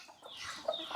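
Hens clucking in a rural Luo homestead: soft, scattered clucks and fowl chatter, faint and somewhat distant, with no speech.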